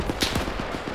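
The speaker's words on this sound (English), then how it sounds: "they're firing at the end" Rapid gunfire in a first-person shooter video game, a burst of sharp cracks at mid distance clustered over a brief moment, with a rumbling backdrop and no talk.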